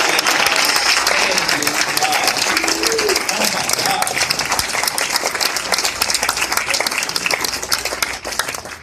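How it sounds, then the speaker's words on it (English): Convention audience applauding, a dense, loud wash of many hands clapping that fills the whole stretch, with a few voices and a cheer briefly standing out from the crowd. "Give these guys a round of applause."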